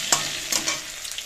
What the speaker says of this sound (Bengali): আলু দিয়ে, আলুটা একটু ভালো করে ভেজে নিলাম।